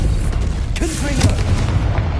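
A Confringo fire spell blast in Hogwarts Legacy, loud booming bursts over a dense game soundscape with a brief swooping magical tone near the middle.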